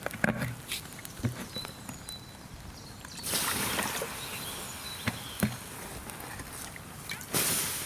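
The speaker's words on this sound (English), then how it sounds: "The rain's coming in." Rain patters steadily on tarp and gear at a wet overnight campsite, the hiss swelling into heavier gusty bursts amid scattered close knocks and rustles of packing up.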